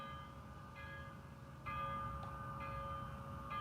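A model train's bell rings in a steady, repeated clang that starts about halfway through and keeps going to the end, clear and moderately loud over a low rumble of running trains on a layout.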